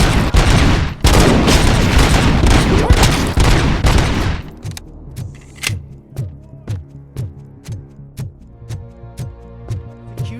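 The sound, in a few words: gunfire in the video game Robocop: Rogue City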